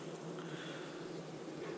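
A honeybee colony in an opened hive hums as one dense, steady drone, close and quite faint, unbroken and with no voices over it.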